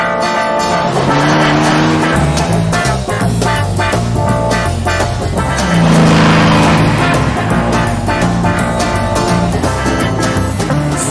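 A 1967 Lamborghini Miura supercar drives past loud and close, its engine roaring and changing pitch as it accelerates, with a hint of tire noise and no talking.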